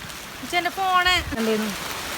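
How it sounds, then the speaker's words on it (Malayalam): Heavy rain pours steadily during an outing to a suspension bridge, a dense continuous hiss filling the background while a person talks over it. "നല്ല മഴ"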